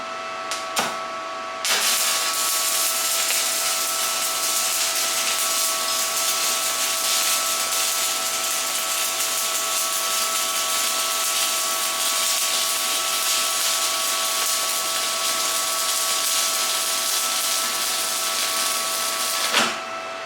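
An Arccaptain TIG200 TIG welder holds a steady arc for about eighteen seconds: a continuous, even hiss with a faint whine running through it, starting and stopping abruptly with no talking.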